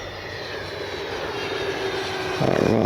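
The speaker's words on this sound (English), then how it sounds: "See that KM afterburner as she goes, KM model's afterburner as she goes by." E-flite Viper 90mm electric ducted-fan model jet passes overhead with a steady whooshing, high-pitched whine that swells louder near the end.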